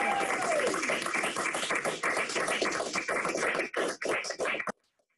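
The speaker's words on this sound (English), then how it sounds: "please give a round of applause to the Army's newest second lieutenant" Applause for a newly commissioned Army second lieutenant at a university ROTC commissioning ceremony: steady, dense clapping that thins into a few scattered claps near the end, then cuts to silence.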